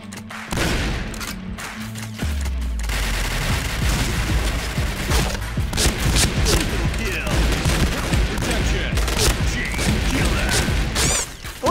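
Gunfire in the Point Blank shooter game, a dense stream of rapid shots and impacts clattering on and on with thuds, loud and close, mixed with other game sounds.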